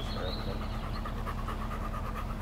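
A hot, struggling dog pants steadily and quickly, close by, under a constant outdoor background hiss with no talk.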